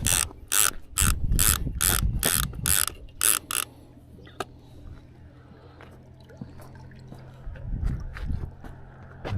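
A fishing reel's clicker ratchets loudly in rapid bursts as line pays out while setting lines for catfish at a lake, then falls away to quiet outdoor ambience with faint clicks and low rustling.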